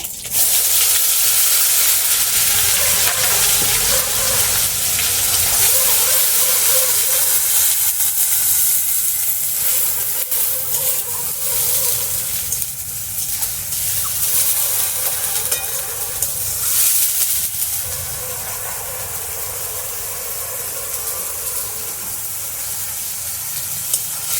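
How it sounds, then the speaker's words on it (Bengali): Ground onion paste sizzling and frying in a pan for a village-style soya chunk curry, a loud, steady hiss with occasional stirring throughout and no talking. "পেঁয়াজটা বেটে রেখেছিলাম সেটা দিয়ে দিচ্ছি।"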